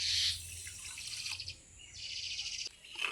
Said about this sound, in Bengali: হাফ বাটি চিনি দিয়ে দিচ্ছি। ওই বাটিরই হাফ বাটি জল।